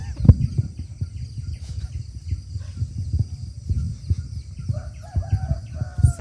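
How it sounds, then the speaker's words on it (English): A rooster crows with a few loud calls near the start and again toward the end, with softer clucking and bird chirps in between, heard alone in a rural setting. "It's the rooster."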